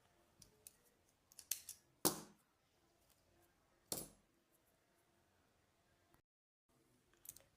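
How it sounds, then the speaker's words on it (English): Scissors snip through crochet yarn in a few sharp, close metallic cuts separated by quiet pauses, with no talking. "I'll cut off my yarn because I'm changing color."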